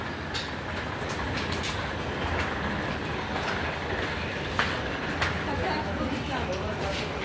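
Train noise at Chandigarh railway station: a steady, fairly loud rumble of rail cars with faint clacks and a couple of sharp clicks, continuous throughout with people talking in the background.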